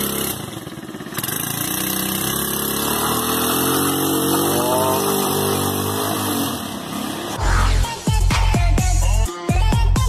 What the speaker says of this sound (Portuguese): logo o buguinho do Junior Sono não faz drift